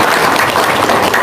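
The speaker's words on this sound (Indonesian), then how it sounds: "Tepuk tangan dong." Applause from an audience, a short, steady burst of many hands clapping at close range, loud and continuous, with no talk over it.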